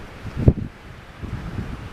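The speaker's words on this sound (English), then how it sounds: "It's super windy." Strong wind blowing across open country at Story Rock, a steady low buffeting rumble on the microphone with one sharper gust early on and no talk.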